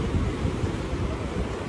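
Sea waves wash steadily onto Devgad beach, a broad continuous surf roar mixed with wind on the microphone, near and even, with no voices.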